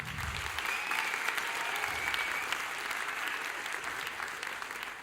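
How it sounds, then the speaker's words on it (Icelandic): An audience at Tónkvíslin 2010 applauds a member of the jury as she is introduced. The clapping from many hands is steady and moderately quiet, holding at an even level for the whole stretch. "Gefið henni gott klapp"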